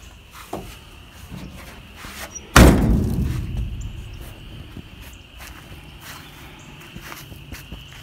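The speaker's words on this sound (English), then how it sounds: "All the doors work properly." An old truck door at a junkyard is worked by hand: a few light clicks and footsteps, then one loud, heavy metallic slam that rings and fades, followed by quieter handling.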